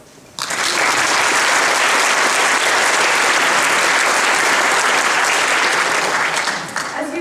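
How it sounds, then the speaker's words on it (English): Graduating medical students at a white coat ceremony break into loud, sustained applause that starts abruptly after a brief quiet and holds as a thick, even roar of clapping for several seconds. "Give yourselves a big applause"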